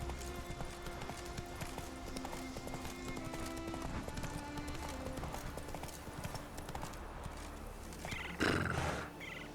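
Roach the horse's hooves clip-clop steadily through the whole stretch in the Witcher 3: Wild Hunt game world, with a brief whinny or snort surging near the end.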